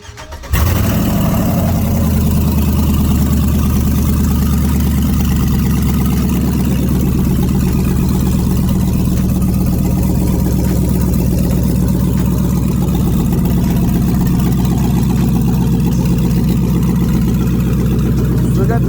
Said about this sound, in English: That's what nasty straight manifold sounds like.